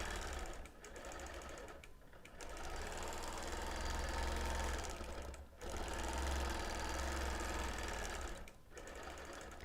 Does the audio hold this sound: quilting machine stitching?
yes